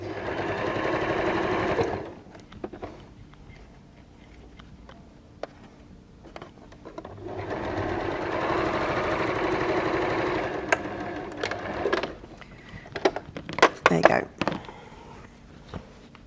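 A sewing machine stitches quilt block fabric in two bursts of rapid mechanical whirring, close and loud, separated by quieter gaps with clicks and handling noises, while a person speaks between and around the stitching.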